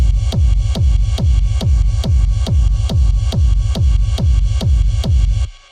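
Processed ride cymbal sample in a raw techno loop, shimmering over a booming four-on-the-floor kick drum with a steady pounding pulse, loud and dense, stopping abruptly at the end.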